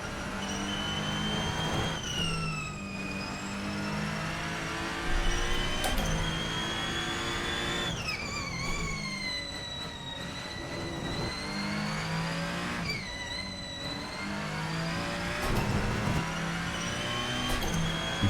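Ferrenzo P49 race car from an Assetto Corsa mod, its engine revving hard and loud through repeated rising gear sweeps with sharp drops between shifts, a high whining tone over a dense mechanical roar.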